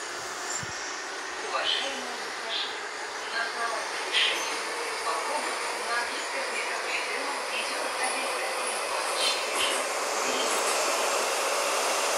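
A Minsk metro 81-717 train runs between stations, a steady loud rumble of wheels and motors lasting throughout with faint squeals and clanks, and a voice talking over it at times.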